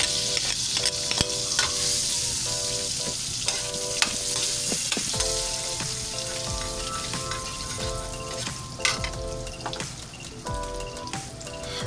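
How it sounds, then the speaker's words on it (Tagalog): Butter melts and sizzles in a frying pan, a steady crackling fry with occasional stirring scrapes, heard up close and alone with no talking. "Habang nagme-melt po yung butter"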